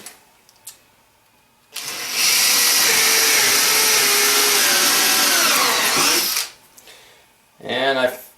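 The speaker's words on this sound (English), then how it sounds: "This is a very long drill bit." A power drill with a very long bit starts up and drills in one continuous loud, whining burst of about four seconds, then stops, followed by brief clatter and a short second whir.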